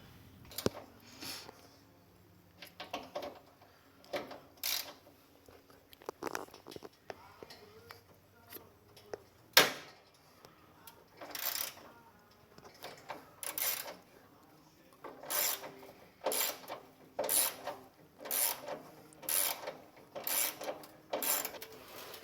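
A pulley mechanism on a Yard Man engine being worked loose gives irregular mechanical clicks, rubbing and ratcheting scrapes, close and moderately loud, with occasional voices mixed in.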